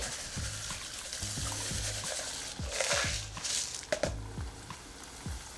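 Rice puffing in oil at 350 degrees, mixed with wooden chopsticks: a steady frying hiss with repeated low knocks and stirring thumps from the chopsticks, close and moderately loud, with no talking.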